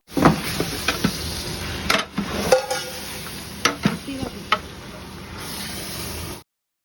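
Chicken pieces fry in masala with a steady sizzle, while a spoon stirs and knocks against the pan in scattered close scrapes and clicks; no voices.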